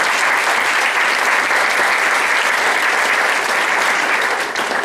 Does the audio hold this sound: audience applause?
yes